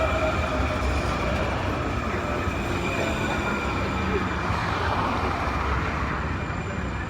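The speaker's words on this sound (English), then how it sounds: "Oh, right on, here's my train." A train rumbles steadily past close by, a continuous broad roar with rail noise holding level the whole time.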